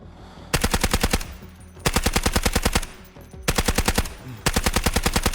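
Bursts of suppressed SMG fire in the Delta Force video game: four rapid automatic strings of evenly spaced shots, each lasting about a second, loud and close with short gaps between bursts.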